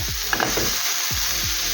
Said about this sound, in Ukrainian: коли смажиться білий гриб, стоїть чудовий аромат.